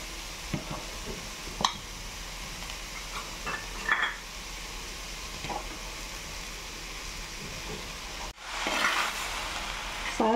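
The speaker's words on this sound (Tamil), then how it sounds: "சாதத்தை போட்டு நல்லா கலரிக்கலாம்." Cooked rice being stirred into paneer pulao in a pan, giving soft scraping and mixing strokes with a low sizzle underneath and a few light clinks of a utensil against the pan.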